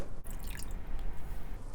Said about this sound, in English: into this pot, I will add water, just enough to cover them